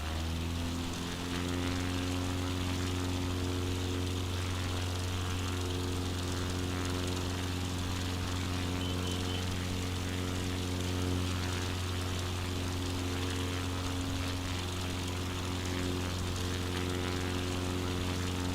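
A steady, droning bush plane engine climbs in a flight simulator, with a constant low propeller hum and some wind noise and no change in pitch.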